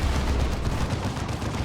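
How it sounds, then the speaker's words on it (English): A Baneblade's Demolisher Cannon firing in the video game Dawn of War 2, a dense, loud rumbling barrage of booming impacts filling the whole short moment. "Demolisher Cannon."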